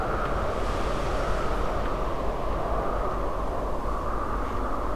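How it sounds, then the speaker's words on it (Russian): Steady wind sweeping across a mountainside in the video game Kholat, a continuous broadband roar that stays loud and even throughout with no gusting breaks or voices. "Да, ветер уменьшается."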